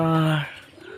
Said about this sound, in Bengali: কবুতর বসে রয়েছে